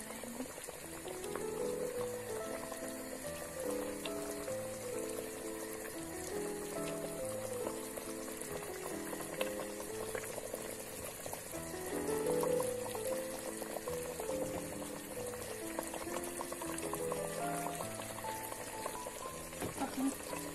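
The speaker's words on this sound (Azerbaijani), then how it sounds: "Bu arada yeməyim də qaynayır." Meatballs and potatoes simmer in a pot, with a steady, soft bubbling and gurgling of liquid that continues throughout at a low level.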